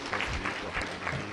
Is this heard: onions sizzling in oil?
no